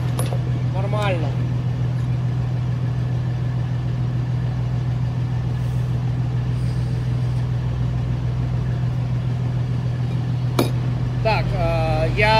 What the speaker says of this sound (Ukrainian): Так, я виключу двигун, тому що він вже не потрібен.